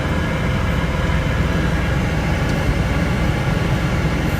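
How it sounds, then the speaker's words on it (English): The air conditioning blower inside a 1986 Porsche 930 Turbo runs as a steady, close, even whooshing rush of air, unbroken for several seconds with no one talking. "Air conditioning."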